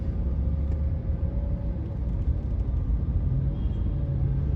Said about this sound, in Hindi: मैं गाड़ी चला रहा हूँ